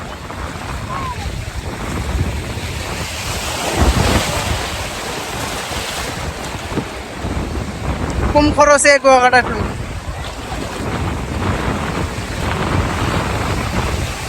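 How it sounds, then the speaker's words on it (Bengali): Sea surf and strong wind on Kuakata beach roar steadily throughout, buffeting the microphone, while someone talks over it and a brief burst of music cuts in midway. "সেই বাতাস হইতেছে আর অনেক ঢেউ"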